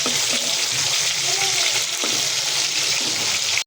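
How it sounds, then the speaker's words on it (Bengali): Hilsa fish frying in hot oil in a home kitchen, a steady dense sizzle that continues unbroken and close at hand, with a few faint clinks and stirring touches, then cuts off abruptly at the end. "আমার মাছগুলো ভাজা হয়ে গেছে"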